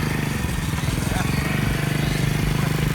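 Honda GL100 motorcycle with an Altan aftermarket exhaust, its engine running close and loud with a fast, steady, throbbing exhaust pulse throughout.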